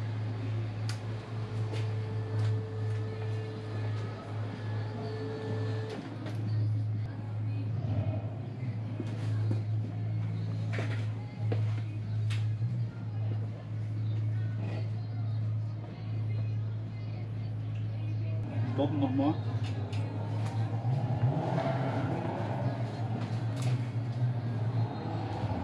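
An STT race car's engine idles steadily with a low, even drone after the ignition is switched back on, while people talk nearby throughout.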